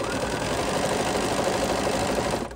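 A Bernina sewing machine runs steadily through a heart pattern stitch, a dense, even mechanical whir that holds loud and close before cutting off at the pattern end.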